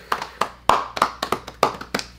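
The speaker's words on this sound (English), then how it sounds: "I gotta clap for that one." Sharp single hand claps, about eight spaced irregularly over two seconds, close and crisp with a quiet room behind them.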